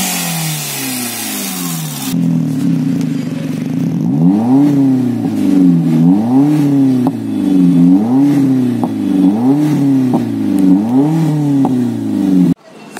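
A Chevrolet Spark fitted with an HKS exhaust revs repeatedly, about five rising and falling blips in a steady rhythm from a close idle, loud and clear, ending with an abrupt cutoff.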